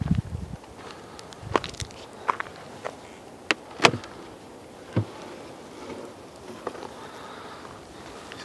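Honeybees hum around a hive just after its lid comes off, a soft, diffuse buzz in the background punctuated by scattered close clicks and knocks of handling.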